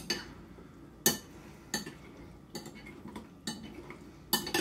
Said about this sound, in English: Mix those onions in there a little bit though.